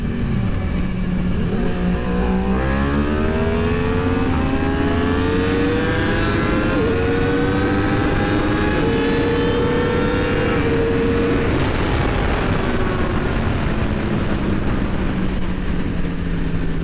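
A Kawasaki ZX10R sport motorcycle engine revs repeatedly while being street-tuned and data-logged, loud and close, with rising and falling pitch sweeps as it climbs through the revs, continuous throughout with no talking.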